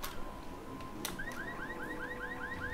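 A car alarm blares in Secret World Legends, repeating rising electronic whoops at a steady rhythm over low ambient game noise, with no talking.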